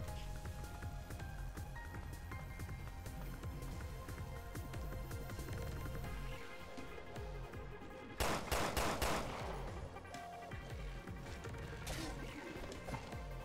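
Handgun fire in the video game Resident Evil Revelations 2: sharp single shots popping in an irregular rhythm over steady game music and ambience, with a louder burst of several rapid shots near the end.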